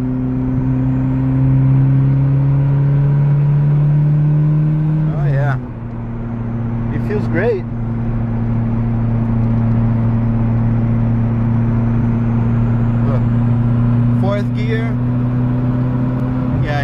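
Mitsubishi Eclipse 2G driving in third gear, a loud steady engine drone that dips in pitch at a shift and then holds a constant hum, with brief voices over it.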